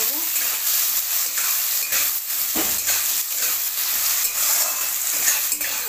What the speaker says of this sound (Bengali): আলুগুলো একদম হালকা ভাজা ভাজা হয়ে গেছে